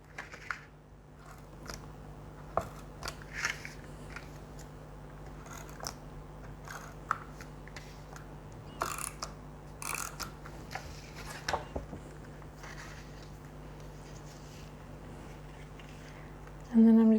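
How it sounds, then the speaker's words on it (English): Tape runner dispensing adhesive onto the inside of a craft box, with irregular short sticky clicks and rustles of paper handling over a steady low hum, close and fairly quiet. "I'm just going to put some tape runner on the inside here"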